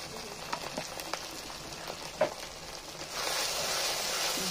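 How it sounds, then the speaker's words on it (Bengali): Turmeric-laced spice paste sautéing for mutton curry over a clay stove, giving a steady close sizzle with occasional stirring scrapes that swells into a louder, denser frying hiss toward the end. "খুব ভালো করে এবার মশলাটাকে কষানো হচ্ছে"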